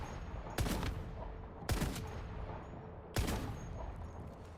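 Three sharp gunshots spaced about a second apart, each loud and close with a brief ringing tail, from gunfire in the survival shooter game Once Human; nothing else heard.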